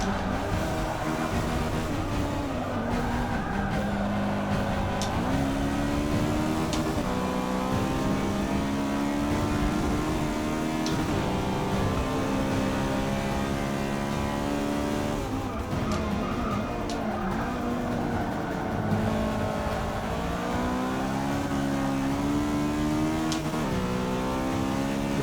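Race car engines roar continuously during a league race in Forza 6, with tones rising and falling through gear shifts, several cars close together, and occasional tyre screeches over the steady drone.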